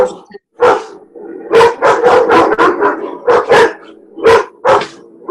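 Several dogs barking loudly and close in rapid, irregular bursts, with some yips and howl-like calls mixed in, a dozen or so sharp barks over several seconds.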